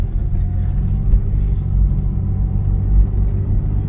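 The engine of a project car with a suspected head gasket or cylinder head fault runs at a steady idle, giving a low, continuous rumble that swells slightly once or twice, with no talk.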